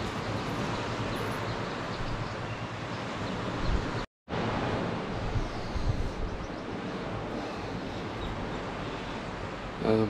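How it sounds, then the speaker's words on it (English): Steady broadband wash of surf rolling onto a shore, continuous and fairly loud, with a brief dropout partway through and some wind noise. "the only thing you can hear now should be birds singing and the sea"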